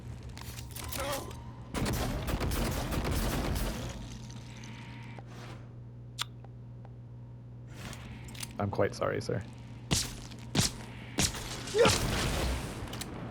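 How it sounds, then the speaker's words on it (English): Psychic explosions from enemies in the sci-fi video game Prey burst out as loud booming blasts in several bursts over a steady low hum, mixed with game effects and a brief spoken line. "the range of their psychic explosions is a lot bigger than I thought they were"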